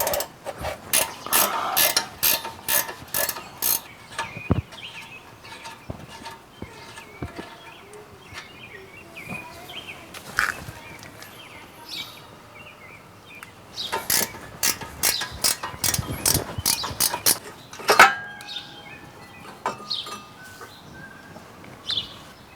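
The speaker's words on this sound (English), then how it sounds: "This time I will be using a 17mm wrench." A 17mm wrench works loose the brake caliper mounting bracket bolts on a 2008 Hyundai Elantra 2.0L, giving rapid runs of sharp ratcheting clicks in several bursts with pauses and metallic clanks between, fairly quiet and close.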